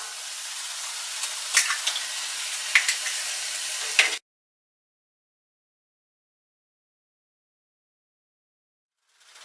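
Eggs sizzle in a pan with cooked chicken for kothu parotta, a steady close hiss with a few sharp crackles for about four seconds before the sound cuts to silence.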